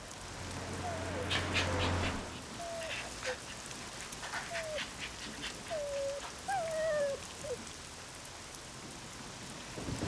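A puppy's soft, high-pitched whimpers rise and fall in short repeated cries over a steady hiss like rain, with faint voices early on.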